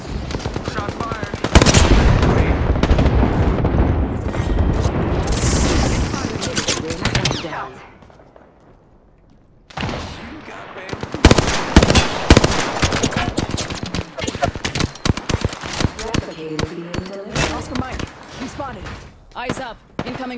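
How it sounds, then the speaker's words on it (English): Apex Legends firefight with loud, rapid machine-gun bursts and sharp single shots, broken by a brief lull, then resuming in a dense, close volley; in-game character voices call out between shots. "Shot fired"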